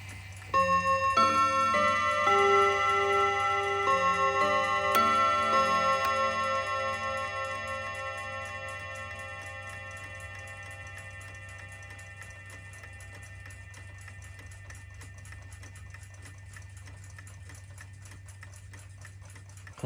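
A Junghans mantel clock ticks steadily as its pendulum swings, with a fading chime of struck hammers ringing out at the start and a low hum underneath, no talking.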